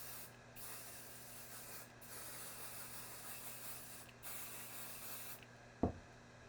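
Short hissing bursts of adhesive spray misted onto quilting fabric over a protected work surface, several quiet puffs in a row with gaps between, followed by a brief sharper knock near the end.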